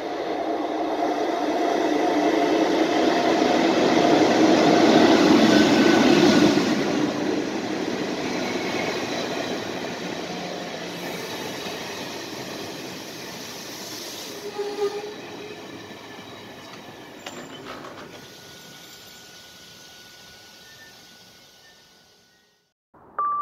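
An express train from Sátoraljaújhely via Miskolc rumbles loudly through Aszód station, its wheels grinding past close by before the noise fades away with a few squeals and clanks.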